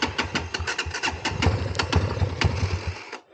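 A Chinese dirt bike engine being started on an enduro trail near falls: a run of rough, sputtering bursts as it cranks and catches, loud and close, then cutting out at the end.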